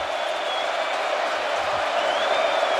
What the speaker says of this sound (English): Crowd is as loud as they've been tonight.